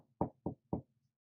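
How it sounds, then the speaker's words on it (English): Three firm knocks on a hotel room door, evenly spaced and close, with near silence around them. "Em, you hear a knock on the door."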